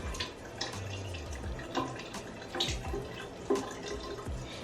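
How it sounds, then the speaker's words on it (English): Tap water runs steadily at close range while someone washes their face at a sink, with scattered small splashes and drips. "So we're gonna start off by washing my face."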